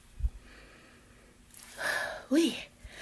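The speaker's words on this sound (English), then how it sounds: "I didn't smell it taking the top off, so let's sniff." Close, quiet sniffing of a scented candle, a couple of short breaths drawn in through the nose after a soft tap.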